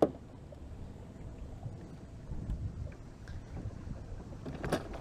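Fishing boat motor pushed into high gear while bass fishing: a low, steady rumbling engine drone with wind and water wash around it, moderately quiet and without speech.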